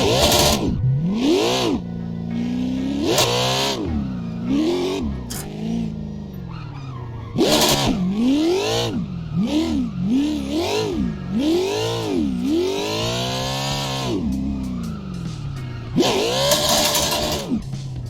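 A drift car engine in Assetto Corsa revs hard again and again, its pitch climbing and dropping in repeated loud sweeps with bursts of tire and exhaust noise between them, and no talking.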